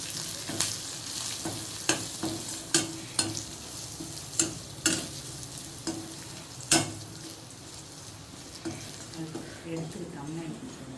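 Bitter gourd curry ingredients with salt and spice masala sauté in a pan, a steady frying sizzle broken by repeated sharp scrapes and clacks of stirring, close and fairly loud.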